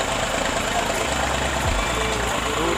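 A tractor engine idles at a brick kiln, a steady low diesel rumble, close and continuous, with someone talking over it.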